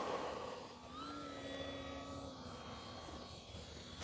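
Twin electric motors of an E-flite Twin Timber 1.6 m RC plane on a 4S battery, set to 30% throttle with takeoff flaps, hum steadily with a droning pitched whine at moderate distance, with no talk.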